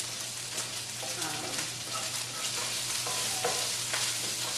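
Roasted red peppers and artichoke hearts sauté in a hot pan, a steady close sizzle with scraping stir strokes and light clinks repeating throughout, no voices heard.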